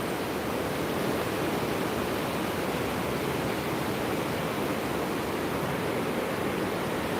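The Hope River rushes after Hurricane Melissa, a loud, unbroken broadband roar of fast-moving water, steady and close with no voices.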